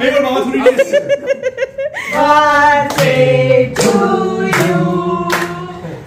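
Hand clapping at a birthday celebration, rhythmic bursts of claps mixed with laughter and chuckling, close and loud, with voices talking and singing over it.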